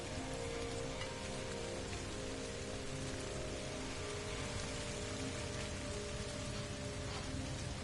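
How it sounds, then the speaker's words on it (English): Acid rain in the video game No Man's Sky, a continuous, even patter of rain on surfaces layered over a steady low tonal drone, no talking. "try not to die from acid rain."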